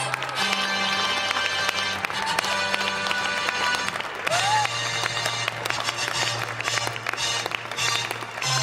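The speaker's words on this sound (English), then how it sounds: "a round of applause." Audience applause welcoming candidates onto the stage during introductory speeches, a steady wash of clapping that runs the whole length, with a sustained low hum and some clattering underneath.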